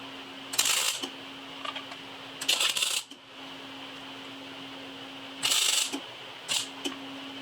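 Short bursts of crackling arc as a mounting tab is tack welded to a Panhead motorcycle frame, four or five brief sputtering zaps spaced unevenly over a steady background hum, fairly close and with no talking.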